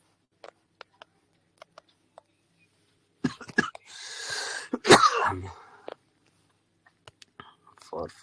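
A man coughs during a meeting, a few rough bursts clustered mid-clip amid otherwise quiet room sound, with faint speech around them.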